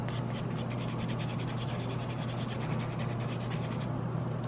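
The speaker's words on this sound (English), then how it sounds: "Sometimes they don't really need a lot of filing on top" Steady, continuous rubbing of a nail file across acrylic nails, a close, even rasping scratch that runs without pause and stops just before the end.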